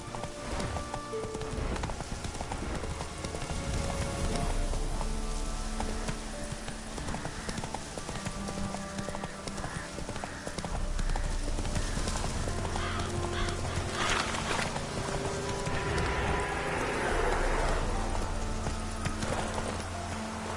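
Hooves clip-clop steadily as a horse gallops in The Witcher 3, the rhythmic beat running throughout over game music and ambient bird calls, with a brief whinny possible.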